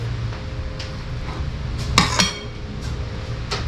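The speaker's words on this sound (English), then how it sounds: "Got your knife, cut it in half." A knife slicing through a rolled sushi roll on a board, giving two short crisp cuts close by against a quiet kitchen background.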